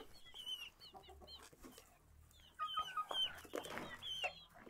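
Chickens cluck and chirp in a new wooden chicken coop on a rural plot, several birds calling in short overlapping bursts, fairly close, with no voices over them.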